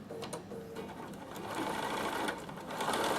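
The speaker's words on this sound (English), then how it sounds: "put your seam to your fold exactly on that fold, and stitch across that end" A sewing machine stitches a straight seam across the folded end of fabric for a tissue box cover, a steady close whirring hum that grows slightly louder and faster partway through, with no talking.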